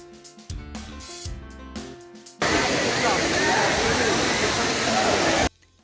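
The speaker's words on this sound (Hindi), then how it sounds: "इस झरने को जमुना जलप्रपात भी कहते हैं और ये इन सुंदर पहाड़ियों की गोद में पूरे 35 मीटर से गिरता है।" Jamuna (Bee Falls) waterfall at Pachmarhi drops 35 metres among the hills; after a short stretch of voice and music, a loud, dense, unbroken roar of falling water takes over and then cuts off abruptly.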